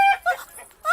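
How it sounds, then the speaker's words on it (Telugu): A chicken clucks in short, sharp bursts close by, a few quick calls spread over a second in a comedy scene. "ఇక్కడెక్కడో కోడి సౌండ్ అనిపిస్తుంది."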